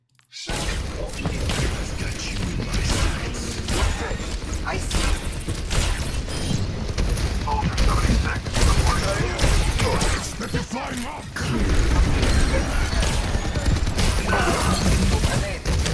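An Overwatch 2 match on Blizzard World erupts with Ana's grenade blast among dense gunfire, crashes and thuds, a loud, constant barrage with someone talking over the chaos.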